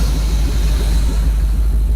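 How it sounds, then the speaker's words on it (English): An LS V8 swapped into a Buick idles close by with a steady, deep, heavy rumble that holds even throughout, with no talking over it. "You officially have a running car. It sounds fucking mean."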